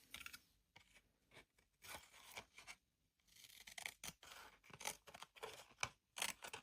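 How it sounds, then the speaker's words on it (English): Scissors snipping excess card paper from a handmade white and gold anniversary card, a series of close, crisp cuts in irregular bursts with quiet pauses between. "Now I need to cut that extra bit off."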